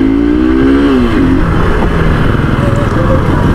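A loud, close Hero Xtreme 200S motorcycle engine droning steadily, pitch shifting slightly as it runs, with a voice faintly under the engine noise.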